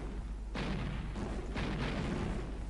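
Tank shells fire in Command and Conquer: Red Alert, two loud booming blasts roughly a second apart over a dense rumbling battlefield background.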